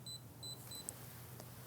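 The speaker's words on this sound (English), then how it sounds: "So you hear the beeping every time there's a new min and max." A Fluke ScopeMeter 120B oscilloscope gives three short, high electronic beeps in quick succession as it records new minimum and maximum readings, clear over a low background hum with no talk.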